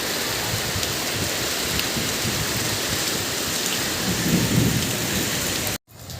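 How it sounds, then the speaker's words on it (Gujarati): Heavy rain pours steadily while a low rumble of thunder rolls in partway through, the downpour loud and constant before cutting out briefly near the end. "જો પાછો વરસાદ આવ્યો છે"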